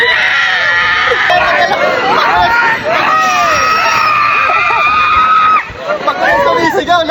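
Riders on a Super Viking swinging-ship amusement ride scream together, loud and close, a sustained chorus of shrieks rising and falling over crowd babble, with a brief dip near the end before the screams swell again.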